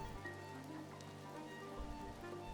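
Rain falling in the video game The Midnight Walk, a soft, steady patter of drops on surfaces, quiet and continuous with no voices.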